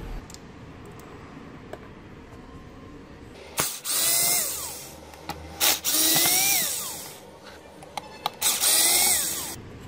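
Power screwdriver whirring in several short bursts while it removes screws from a Harman Kardon Bluetooth speaker. The bursts stand clear against a quiet room.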